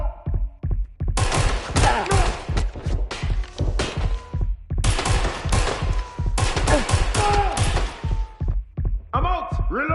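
Gunfire in the video game Watch Dogs: Legion: rapid automatic bursts in long loud runs, separated by brief pauses, with punchy close shots and a few sharper reports near the end.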